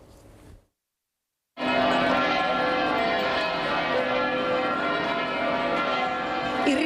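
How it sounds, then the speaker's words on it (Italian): Church bells ring loudly and continuously after a brief silence, greeting marchers at the tenth edition of an anti-pesticide march, with a dense, sustained metallic tone that fills the rest of the clip. "Il rintocco delle campane ha accolto l'arrivo dei partecipanti"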